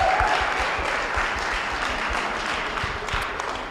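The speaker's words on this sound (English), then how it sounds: "If we can give a quick round of applause real quick." Wedding guests at a reception at The Park Chateau give the newlyweds a steady round of applause, with dense clapping that slowly tapers off.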